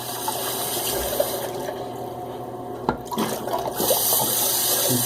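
Hot water running from a tap over hands being rinsed of slick shaving soap, a steady close splashing flow with changes in tone as the hands move under the stream.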